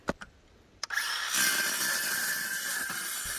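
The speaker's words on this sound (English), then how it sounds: "Drilling some screws, if you please." A few sharp clicks, then a power drill whirs steadily and loudly, its high whine holding for several seconds as screws are driven during an off-grid tiny cabin roof build.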